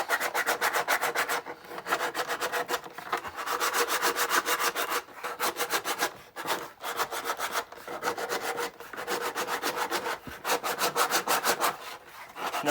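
Sandpaper rubs back and forth over imperial gunner helmet parts in quick, rhythmic strokes, a close, dry rasping that repeats steadily with short pauses between bursts, with no talking.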